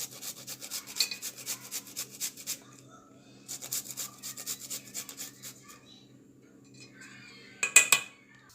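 Potatoes are rubbed back and forth over a hand grater for moong dal vada, giving quiet, rhythmic rasping strokes in two runs, then a brief louder scrape and clatter near the end, with no talk.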